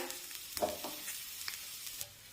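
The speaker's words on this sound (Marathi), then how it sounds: "आणि आता कोथिंबीर सुद्धा यासोबत परतून घेऊया" Chopped coriander sautés in a pan for green chili thecha, a soft, close sizzle with a few stirring scrapes over a couple of seconds.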